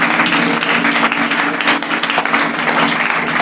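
A church congregation bursts into dense, sustained applause for Jesus at a French-language Sunday service, many hands clapping together loudly and evenly with no pause.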